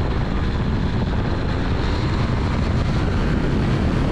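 Aerolite 103 ultralight aircraft with bush gear, its engine roaring steadily at full power on a takeoff run, loud and close with heavy wind rumble and no talk over it.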